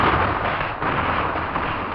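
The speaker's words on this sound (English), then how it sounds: "Cannon fire blasts through the rural silence." Civil War battlefield cannon fire at Bloody Hill near rural Missouri cornfields, a dense, continuous roar of booming artillery rumbling steadily throughout, loud and unbroken.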